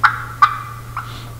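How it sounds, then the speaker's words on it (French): Real wild turkey yelping in the woods: three short, sharp, clear calls at an uneven pace, close and loud over a low steady hum, with no voices. "le son que fait un vrai dindon dans le bois quand il se promène puis qu'il fait des yelps"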